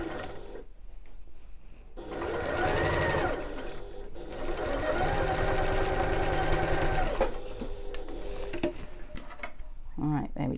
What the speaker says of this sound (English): back stitch at the start and the end, sewing over the whole way